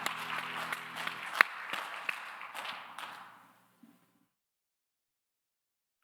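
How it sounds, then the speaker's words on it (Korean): A young adults' Sunday worship congregation in church claps in encouragement, a lively patter of hands that fades out after a few seconds into silence. "우리 박수로 서로를 응원하고 축복하겠습니다."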